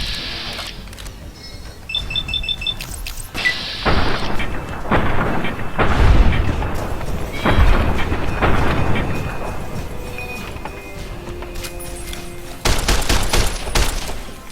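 Gunfire in Fallout: New Vegas, bursts of rapid shots and booming impacts clustered through a firefight, loud and close, with quieter gaps and electronic game tones between volleys, no talking.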